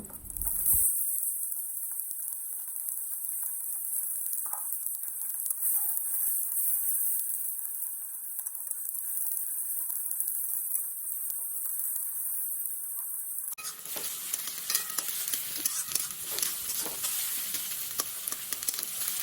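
Chopped onion fries in hot oil with bay leaf, dried red chilli, cinnamon and nigella seeds, a continuous close sizzle with scraping stirs that turns suddenly louder and more crackly toward the end, with no talking.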